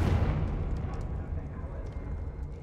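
Confringo fire blast spell cast in the Hogwarts Legacy video game: a loud, booming burst that opens the clip and then rumbles on as a low, dense roar.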